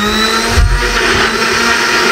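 Commercial juicer machine grinding in a dhaba-style kitchen, a loud steady motor whir with a brief surge of rough churning partway through, heard alone with no talk.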